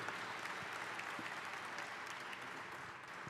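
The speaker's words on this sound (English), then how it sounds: "Let's give a big round of applause." Conference audience applauding steadily, a dense wash of many hands clapping at even loudness throughout, with no voices on top.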